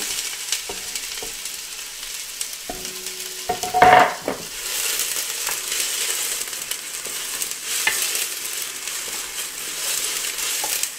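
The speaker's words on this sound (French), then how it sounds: "Je vais mettre donc une cuillère à soupe d'huile d'olive, une cuillère à soupe. On va verser les oignons dedans." Onions tipped into a spoonful of hot olive oil for oxtail rillettes sizzle steadily, with a brief louder burst of stirring and pan clatter near the start, then a continuous moderate frying hiss alone.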